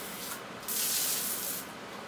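A close, loud hiss of spraying water swells up for about a second, then fades back to a quieter rushing background, while clearing a clogged sewer line.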